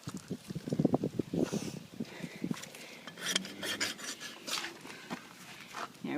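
Farrier rasping a horse's hoof wall, bevelling the heel quarter, with repeated close rasping strokes, a quicker burst at first and then slower, lighter passes.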